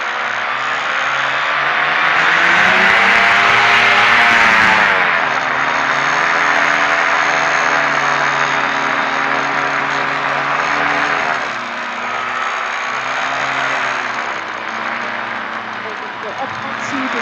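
A paramotor engine roars loudly and continuously at close range during a takeoff run, its buzzing drone dipping and rising in pitch as the throttle shifts.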